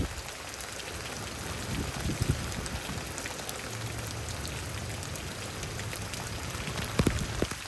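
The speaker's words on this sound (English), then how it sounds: "A more intense rain that we've had." Heavy rain pours outside during a thunderstorm in Houston, Texas, a thick, constant hiss of falling drops with a few sharper nearby splashes, steady and fairly loud without any voices.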